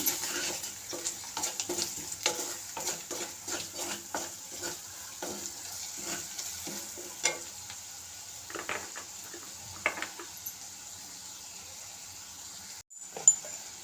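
A spoon scrapes and stirs roasted cumin powder masala in a hot pan, rhythmic strokes over a soft sizzle that thin out to occasional scrapes near the end.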